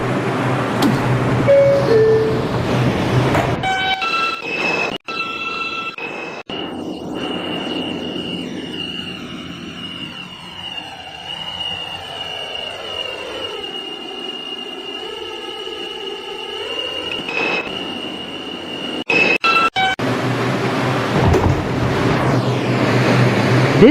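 An R142 subway train on a test run rumbles and screeches along the track, loud and close, with a long high-pitched wheel squeal in the middle that rises and falls before the rolling noise returns.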